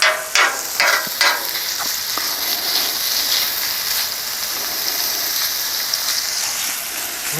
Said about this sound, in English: the bacon is cooking very nicely